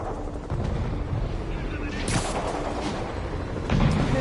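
Video game combat at a rooftop outpost under attack by demons, with heavy booming gunfire and explosive bursts crowding together in loud, rough volleys that swell again near the end.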